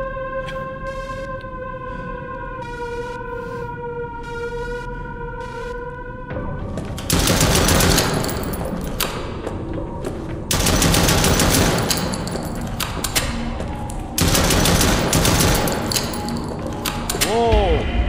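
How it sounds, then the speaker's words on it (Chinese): Rapid gunfire from a video game on the highest difficulty, loud bursts of repeated shots and mechanical clatter after a quieter tonal opening, with a voice talking over parts of it. "待会要开枪射他很多次咯"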